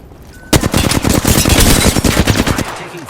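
Automatic weapon fire in the Apex Legends video game, a loud, dense burst of rapid shots lasting a couple of seconds right up close.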